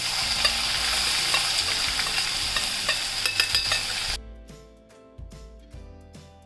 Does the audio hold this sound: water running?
no